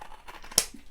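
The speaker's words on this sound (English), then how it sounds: "I'm going to just cut it down with my scissors" Scissors snip once, sharp and close, through folded fabric while strips are cut for a craft project, with a quiet room around the single crisp cut.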